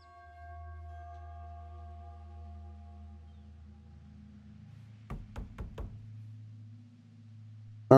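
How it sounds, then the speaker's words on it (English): Knocking on a door in The Casting of Frank Stone video game: four sharp, close knocks in a quick burst, heard over a low droning ambient hum, followed by another loud hit at the end. "Knock, knock."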